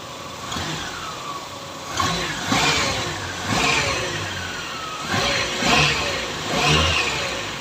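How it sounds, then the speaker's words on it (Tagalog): A Toyota Tamaraw FX engine runs nearby, idling with a low rumble and revving up repeatedly in roughly regular surges. "Pakinggan natin ang makina."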